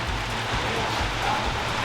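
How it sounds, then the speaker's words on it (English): Heavy rain falls steadily around a workshop, a dense even hiss of drops on surfaces with a low rumbling undertone, continuous and fairly loud with no talking. "It's really raining."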